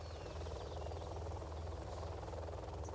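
Helix helicopter flying in the Command & Conquer-style strategy game on a Castle Wolfenstein map, a steady low rotor drone and engine rumble, continuous and fairly faint, with no voices.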